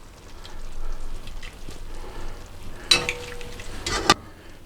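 Pasta being tossed with shrimp and tomatoes in a pan, giving a soft continuous stirring rustle with two sharper scraping bursts near the end, close and alone.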